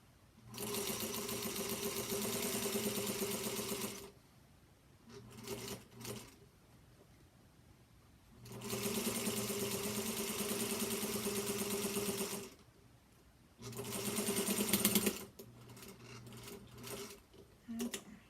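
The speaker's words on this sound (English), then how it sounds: "I'm going to make a 1/4 inch seam, not running over pins here" A sewing machine stitches a quarter-inch quilt seam in three steady runs of rapid, even mechanical whirring, close and loud, separated by short pauses with faint handling noise.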